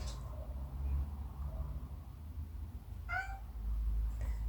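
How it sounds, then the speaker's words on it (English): A house cat lets out a short, clear meow near the end, heard close but fairly quiet over a low background hum during a makeup try-on. "sorry, my cat."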